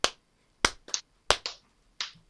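Close, crisp hand claps in small bursts, sharp sudden hits with quick decays and a couple of softer follow-up claps in between, in a quiet room.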